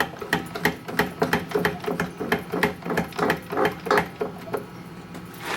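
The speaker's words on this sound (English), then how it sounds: "Screw it down to start with." Screws driven down with a hand tool while fitting a guide during a cylinder head build: a close, steady run of sharp ratcheting clicks and taps in quick rhythm, with no talking.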